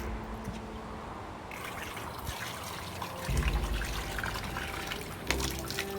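Water running and splashing in a continuous broadband rush that grows louder partway through, with a short knock near the end and faint tonal background sounds underneath.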